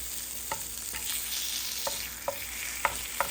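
A slice of bologna fries in a pan with a steady close sizzle and hiss, broken by several soft scraping taps of a utensil at irregular intervals.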